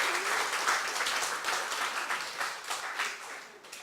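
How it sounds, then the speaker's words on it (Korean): A congregation at a Sunday morning church service in Korea claps together, producing a sustained wash of fairly distant applause that gradually fades out. "우리 본인이 박수 받기를 원하는데 박수 한번 칠까요?"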